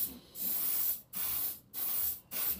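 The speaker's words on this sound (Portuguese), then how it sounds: "para que o spray pegue na maior área possível e eu aproveite o máximo de tinta que der." Four bursts of paint spray hiss from a spray gun fitted with an 05 nozzle while varnish is applied to a model battle car. Each steady blast lasts about half a second, with brief pauses between them, close and alone.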